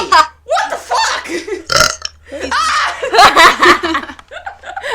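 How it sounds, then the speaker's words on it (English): Several loud, close burps from a person alternate with bursts of laughter and voices, the belches stretching out in long gravelly rumbles between chuckles. "My burps are adorable, apparently."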